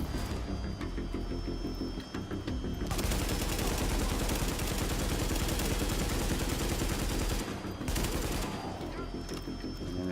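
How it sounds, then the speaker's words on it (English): Sustained heavy gunfire from the video game The Division, dense overlapping bursts of automatic shots filling nearly the whole stretch, with brief lulls near the start and toward the end. "at the moment I'm under suppressed fire here."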